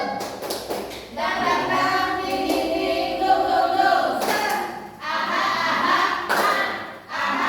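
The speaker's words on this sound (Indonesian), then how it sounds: "Tepuk semangat yuk" A group doing the tepuk semangat rhythmic clapping routine, loud patterned claps and thumps in bursts, mixed with chanting voices and short pauses between phrases.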